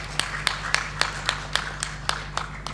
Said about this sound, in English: Let's give applause to